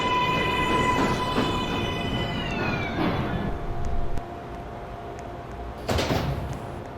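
A New York subway train, a Manhattan-bound 4 train, rumbles through, with brakes or wheels squealing in high, sliding tones that fade over the first few seconds, followed by a sharp door-like clunk near the end.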